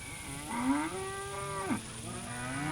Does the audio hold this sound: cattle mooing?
yes